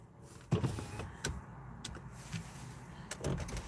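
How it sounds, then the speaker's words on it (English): An electric car sunroof closes at dusk in a parked car with a storm expected, giving a brief motor whir and a soft thunk, followed by a couple of faint clicks and a later short burst of mechanical noise. "let me close my sunroof."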